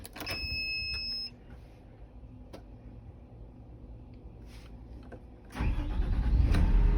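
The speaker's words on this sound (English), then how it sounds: "Start the machine." John Deere 210G LC excavator diesel engine cranking and catching, a faint click and quiet hum first, then a loud rumbling start that settles into a steady close idle.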